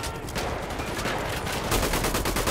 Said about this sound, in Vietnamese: Để mình lấy khẩu MG ra mình bắn các bạn